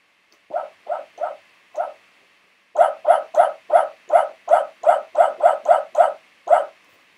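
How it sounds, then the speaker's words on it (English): Electronic synthesized barks from a homemade keyboard circuit, four spaced yelps followed by a rapid run of about a dozen evenly timed barks, loud and close with a buzzy tone. "Now on my keyboard here, I can make it bark."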